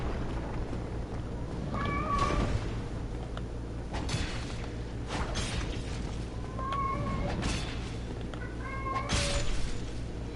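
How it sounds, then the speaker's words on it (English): A house cat meows several times in short, clear calls spread across the stretch, set against a steady low background hum and some faint rustling. "I love that cat."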